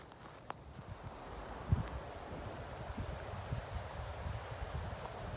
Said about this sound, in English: A little breezy. Hopefully it's not hurting the sound quality.